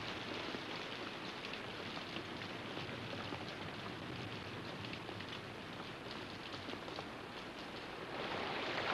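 Steady rain falls through a tropical rain forest, a dense, continuous wash of drops on leaves and ground that holds level throughout and swells slightly near the end.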